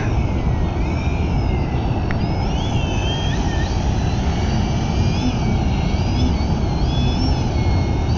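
A model airplane flying low over the water of Long Island Sound gives a thin, wavering motor whine above a loud, steady rush of wind and water noise, continuous throughout with no talking.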